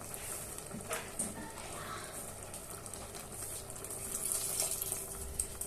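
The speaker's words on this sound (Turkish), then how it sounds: "Çok az bir damla su koyacağım." A small splash of water is poured into a pot of sour okra stew in a home kitchen, a faint running trickle over low background noise, growing a little louder near the end.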